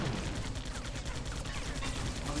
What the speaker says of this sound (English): Oh, he's got a machine gun